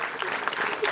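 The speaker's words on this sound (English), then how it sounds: "a big round of applause for Hiren Bhai of Ekatva Group" Brief burst of audience clapping at a business excellence awards ceremony in Thane, a dense wash of many hands heard from a distance at moderate level, with faint voices mixed in.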